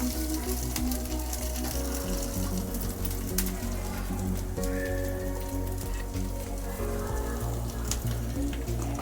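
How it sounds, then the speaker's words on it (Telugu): Green chillies frying in plenty of oil for a pickle, giving a steady, crackling sizzle that continues evenly throughout, with background music running underneath. "పచ్చిమిర్చి వేయించుకున్నాను"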